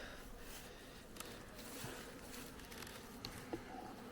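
Honeybees hum in a freshly opened beehive during an inspection for brood disease: a faint, continuous buzzing drone with a few brief louder passes close by, and no talking.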